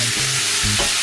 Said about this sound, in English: Got a nice sizzle going now.